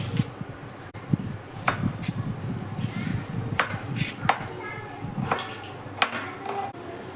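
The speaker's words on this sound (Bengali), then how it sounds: "দেখুন আমি পেঁয়াজটাও কেটে নিলাম এরকম ঝিরিঝিরি করে" Knife cutting onions into thin slices on a board, a run of sharp, uneven chops close by under a voice talking.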